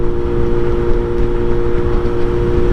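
Suzuki GSX-S750 motorcycle running catless with an aftermarket air filter, a loud steady engine drone with a deep rumbling tone held constant throughout, no talk.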